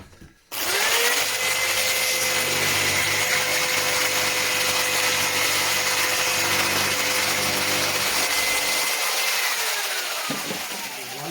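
A power saw chops lengths of wood cladding for a DIY kitchen fitting, spinning up and holding a loud, steady whine through one long cut of about ten seconds before winding down, with no talking.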